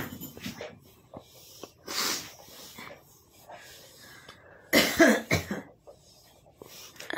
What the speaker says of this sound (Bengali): আমার মা এদিকে কাশছে,